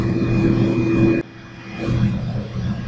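A Shinko steam turbine running at 1530 RPM during its soak period, a loud steady mechanical hum with a fixed tonal whine that drops abruptly in level partway through and then continues more quietly.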